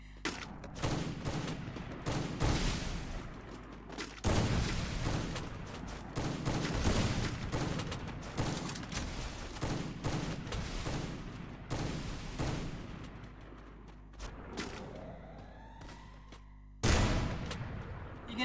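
Gunfire fills a match of the video game Free Fire, with dense bursts of rapid shots and booms, loud and continuous with brief lulls, under faint game ambience.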